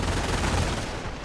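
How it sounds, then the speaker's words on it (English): Heavy, continuous battle noise from a WWII strategy game, with rifle fire, an MG 42 machine gun and recoilless rifle shots blending into a dense, unbroken roar without speech. "Recoilless rifle shots flying. LMG 42 blasting grenades flying at the airborne."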